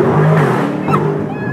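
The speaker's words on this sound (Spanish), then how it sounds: "no había probado el acelerón" Chevrolet Corvette C8 engine revving hard, a loud, sustained roar that rises and holds for under two seconds, close by.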